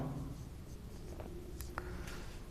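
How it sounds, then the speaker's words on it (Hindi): Faint chalk or marker strokes on a classroom board during a Hindi grammar lesson on visarga sandhi, a few soft scratchy scribbles over quiet room hiss, with no speech. "जैसे कि मैं यहाँ पे लिखता हूं"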